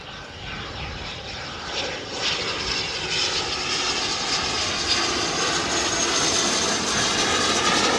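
A two-seat military jet trainer flies past, its broad engine roar swelling steadily and staying loud throughout, as heard from an airbase with F-15, F-16 and F-35 traffic.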